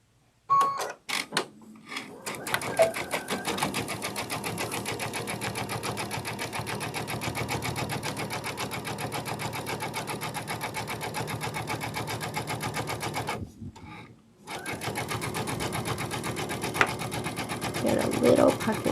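A domestic sewing machine runs steadily, stitching in the ditch along the seams of a sunflower quilted wall hanging, with a continuous fast whirring hum that stops briefly and restarts; someone talks over it at times.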